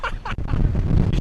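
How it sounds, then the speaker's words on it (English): Wind gusting across an exposed wild camp in the Peak District near the Seal Stones, a loud broadband rush buffeting the microphone for just over a second, with a voice briefly heard over it. "Windy."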